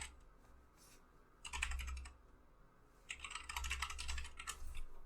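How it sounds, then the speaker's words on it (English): Computer keyboard keys clicking in two quick bursts of typing, close and fairly quiet, with a soft pause between them. "I'm gonna type my my EFT email in quotes"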